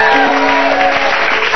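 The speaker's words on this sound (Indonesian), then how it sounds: "tepuk tangan dong buat Bunda dan Ciko" Loud, steady studio audience applause with some crowd noise on an Indonesian TV singing show after a mother-and-child duet, with a sustained tone ringing through.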